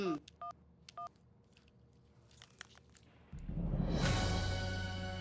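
Telephone being dialed: a few short electronic keypad tones sound singly near the start, followed by faint scattered clicks and then a swelling bright musical sting that takes over the final seconds.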